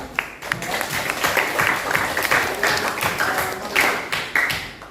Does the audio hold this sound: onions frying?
no